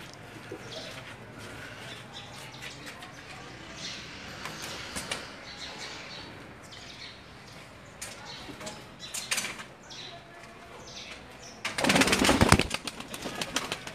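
Pigeons from a pigeon collection are grabbed by hand, with a brief loud burst of wing flapping near the end over a steady, noisy background where faint coos and chirps are audible.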